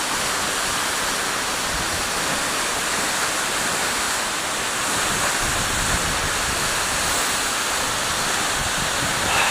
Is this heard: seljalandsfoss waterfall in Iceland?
yes